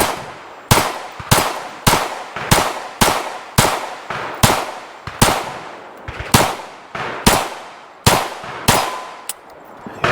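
A CZ P-10 C ported pistol firing Monarch 115-grain steel-cased rounds, about a dozen sharp, loud close shots spaced at uneven intervals of roughly half a second to a second, each cracking and then ringing briefly.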